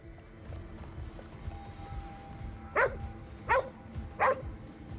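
A dog barks three times at even intervals in the video game Ghostwire Tokyo. The sharp barks rise over a soft, rumbling ambient background, and no one speaks.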